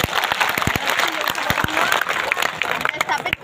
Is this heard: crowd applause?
yes